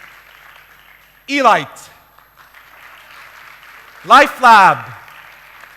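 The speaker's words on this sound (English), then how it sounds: "If you'll give a round of applause after each name, please" Audience applause at a startup awards ceremony in Beirut: a steady wash of clapping runs underneath as an announcer's voice calls out company names in two short bursts.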